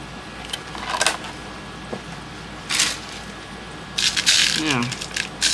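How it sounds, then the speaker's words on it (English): Glass seed beads rattling and clinking inside a small container, several separate shaken bursts with quiet gaps between them, close and fairly loud, with a brief voice near the end. "These have like a lot of glass seed beads in them."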